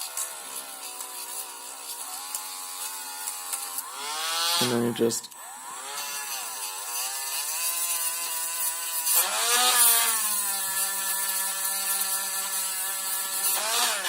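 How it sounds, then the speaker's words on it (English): A high-pitched Dremel rotary tool with a small sanding wheel whines steadily while grinding away copper, briefly cutting out and revving again, with a short spoken phrase near the start. "So how you do this is you just take a Dremel"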